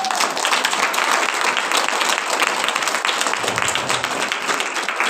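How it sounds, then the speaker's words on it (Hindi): A church congregation claps for their leader and for Jesus Christ, a loud dense roar of applause that stays steady and continuous from start to finish. "एक बार मेरे अगुवे के लिए और प्रभु यीशु मसीह के लिए तालियां बजाओ"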